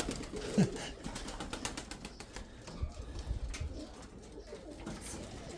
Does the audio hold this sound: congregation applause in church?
no